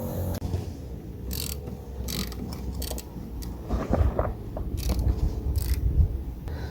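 A replacement bolt of a different style is ratcheted into the stripped bolt hole of a brake caliper, giving a steady run of close, quick clicking and metallic creaking throughout with no voices.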